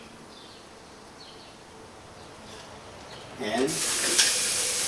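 Eggs tossed into a hot pan for Chinese fried rice burst into a sudden loud, bright sizzle that keeps going after a quieter stretch of background hiss, with a voice speaking briefly.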